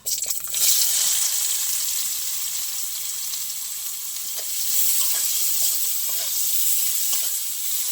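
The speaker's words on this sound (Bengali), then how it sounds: "পেঁয়াজটা লাল লাল করে ভেজে নেব" Onion frying with radhuni seeds and a dried red chilli, a steady loud sizzle with occasional stirring scrapes throughout, no voices.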